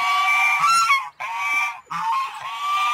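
Geese honking loudly and close by, a few harsh calls in quick succession with brief pauses between them.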